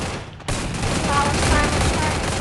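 Gunfire erupts in a Free Fire 4 vs 4 match: after a brief dip, dense, continuous rapid shots blend into a loud, unbroken roar.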